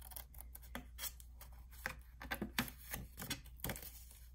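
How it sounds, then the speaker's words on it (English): Scissors cut a small triangle out of paper at a score line with a series of close, quiet snips and rasping crunches in an uneven rhythm, and no voices. "at your little score line right here, we're just gonna cut this tiny little"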